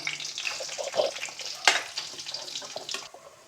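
Dried red chillies and coriander fry in hot oil while making a seer fish fry, a close sputtering sizzle with bursts of crackle and one sharp loud spit partway through.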